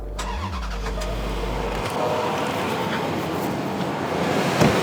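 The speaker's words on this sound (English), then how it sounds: "now I'm gonna go start my good car" A car engine cranks briefly, then catches and settles into a steady, loud idle nearby.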